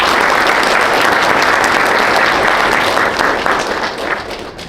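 A lecture audience breaks into loud, sustained applause welcoming a computer science speaker, dense clapping that holds steady before tapering off toward the end.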